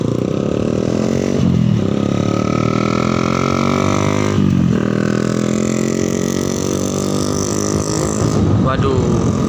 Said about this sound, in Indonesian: keras sekali knalpotnya teman-teman